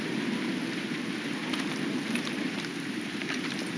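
Steady rainfall in the Call of Duty Modern Warfare 2 Remastered game, a constant dense hiss of rain filling the scene without pause, no voices heard.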